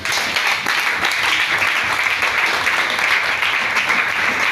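A church congregation applauds during a worship service, loud dense clapping that holds steady and continuous from start to finish with no voices above it.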